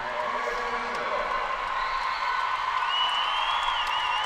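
Arena crowd at the 2015 USA Gymnastics Championships cheering during a men's floor routine, a sustained, steady roar of voices and applause with a few whoops rising near the end.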